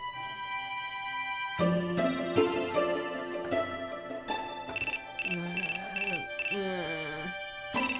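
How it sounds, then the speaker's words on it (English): A phone in the video game Star Melody Yumemi Dreamer rings with a bright electronic melodic tone, repeating warbling phrases over game music, loud and clear, with no voice over it. "The phone? It's calling me at this hour."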